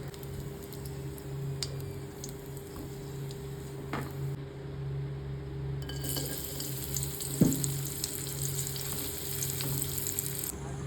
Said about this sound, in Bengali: এবারে এর মধ্যে আরেক চামচ ঘি দিয়ে তাতে তেজপাতা এবং গোটা গরম মশলা আমি এর মধ্যে ফোড়ন দিয়েছি